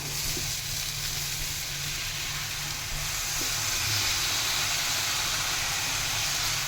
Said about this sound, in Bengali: এই চাল কুমড়াটা আমি দিয়ে দিচ্ছি